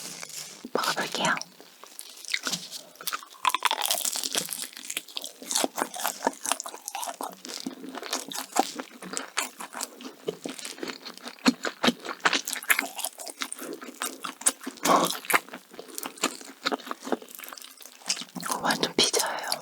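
Crisp, close crunching bites and chewing of a pepperoni rose pastry pie, a flower-shaped flaky pastry like pizza, with rapid crackles and soft mouth sounds repeating steadily throughout, no talking.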